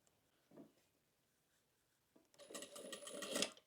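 A sewing machine backstitches a seam on a fabric tote bag in a quiet room: a brief burst of stitching, a pause, then a longer run of rapid, close mechanical stitching.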